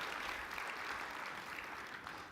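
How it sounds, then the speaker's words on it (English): A faint, steady wash of audience applause fills a conference welcome hall for students, sounding distant and continuous with no distinct voices over it. "A big round of applause, because they are our next generation of HITEC leaders."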